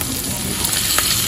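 Paneer sautés in a hot pan for chilli paneer, giving a loud, close, continuous sizzle with small crackling spikes throughout and no talking.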